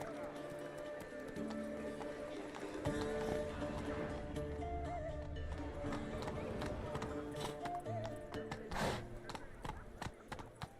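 Roach the horse gallops in The Witcher 3: Wild Hunt's Blood & Wine expansion, a steady, close clip-clop of hooves running throughout over a layer of game music.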